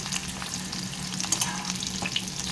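Sliced onion and green chillies frying in a pan, a steady close hiss of oil peppered with small bright pops and spits throughout, moderately loud and continuous.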